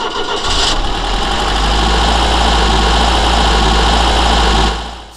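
Car engine sample reworked through granular synthesis, a loud continuous droning engine rumble with dense grainy texture, holding steady for several seconds before fading out at the end.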